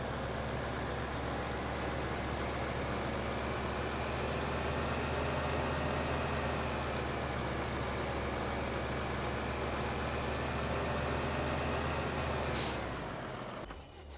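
A tractor engine idles steadily in Farming Simulator, a loud, even low drone with a constant hum held throughout, ending in a brief hiss and slight drop near the close.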